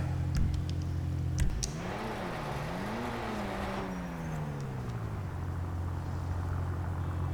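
The Grotti Furia supercar in GTA Online rumbles close by, revving up and down in a couple of swells, then drops to a steady low idle.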